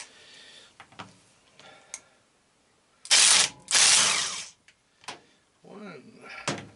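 An old Black & Decker power tool whirring in two loud bursts while a seized Honda Big Red ATC 200ES engine is taken apart, with scattered clicks, knocks and ratcheting before and after.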